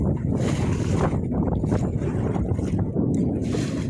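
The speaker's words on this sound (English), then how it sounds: "I'm gonna try to get out of the wind a little bit over to this shoreline." Wind gusting hard across a microphone while paddling a boat on Sebastian Inlet, a loud, continuous buffeting roar with low rumble and faint water sounds, no clear speech.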